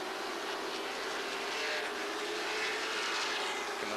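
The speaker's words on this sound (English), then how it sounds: "These 4 cars knotted together. They head down the back stretch." A pack of NASCAR late model stock cars roaring down the back stretch together, a steady loud engine drone with a slight swell midway and no pauses.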